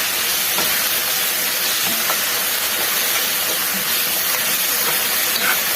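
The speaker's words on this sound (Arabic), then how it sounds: "خلاص هشوحهم كده مع البصل والثوم." Greens sauté with onion and garlic in a pan, producing a continuous close hissing sizzle with faint scattered crackles and soft stirring taps throughout, no voices.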